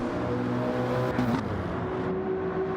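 Race cars circle the Red Bull Ring in Gran Turismo 7, a loud continuous engine drone with shifting revs and a brief rising whine as cars pass close.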